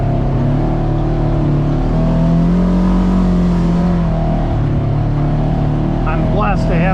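A 181-horsepower Polaris RZR Trail drones loudly and continuously while riding a 50-inch trail at Willow Creek, Allegheny, with a steady engine roar and whir throughout.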